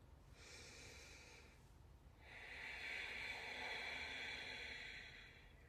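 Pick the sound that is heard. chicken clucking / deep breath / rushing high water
deep breath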